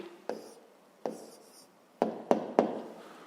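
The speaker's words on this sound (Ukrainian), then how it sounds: "Ну що ж, записуємо відповідь." Pen writing down an answer on paper during a fifth-grade math exercise, heard as a few distinct short taps and scratches spaced apart, fairly close and quiet, with no talking.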